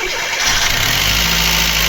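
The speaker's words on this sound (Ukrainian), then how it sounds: "Вібрики затарабанили наші моторчик. Не троїть, гофра не деренчить." A Chevrolet Aveo 1.5 petrol engine cranks and catches after repair work, then settles into a loud, close, steady running hum with no talk over it.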